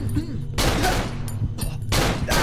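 Gunfire in the Cry of Fear horror game, several loud rapid bursts of shots separated by short quieter gaps, with a faint voice underneath between the volleys.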